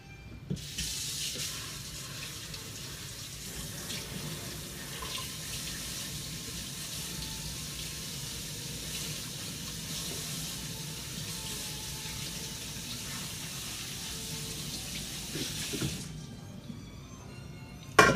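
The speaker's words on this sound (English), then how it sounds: "I'm going to run cold water over them" Cold water gushes from a kitchen tap over potatoes in a sink, a steady close rushing stream that runs without pause for about fifteen seconds before cutting off, followed by a faint clink.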